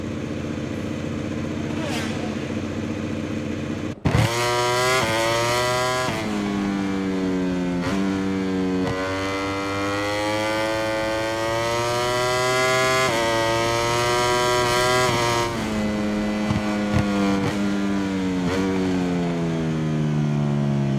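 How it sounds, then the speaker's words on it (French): Racing motorcycle engine in MotoGP 22 revving loudly and steadily, rising and falling in pitch through repeated throttle blips after a quiet opening few seconds, close and continuous. "Les mécaniciens sortent la moto des stands et le pilote s'apprête à l'enfourcher."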